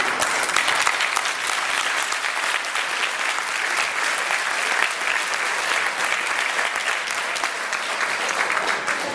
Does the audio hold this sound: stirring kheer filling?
no